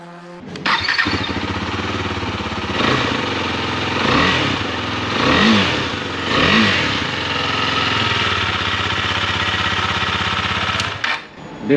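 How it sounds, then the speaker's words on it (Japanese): A 2022 Husqvarna Svartpilen 250 motorcycle engine cranks and catches, then idles loudly with a steady throbbing rumble, swelling in a few brief revs before stopping. "エンジンもちょっとかけてみます"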